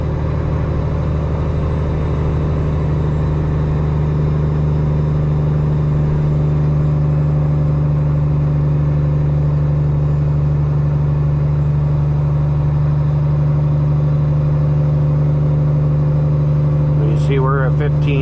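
A semi truck pulling an empty trailer descends a steep grade, its engine droning steadily and loudly from inside the cab, with a short voice near the end.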